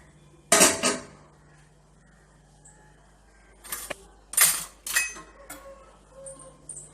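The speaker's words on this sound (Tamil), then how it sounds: "இப்போ அடுப்பில் கடாய் வச்சு நம்ம வந்து நெய்யை சேர்த்துக்கலாம்." A metal kadai is set onto a stove for making rava laddu, giving a sharp clank followed by several scattered metallic clinks and knocks in an otherwise quiet kitchen.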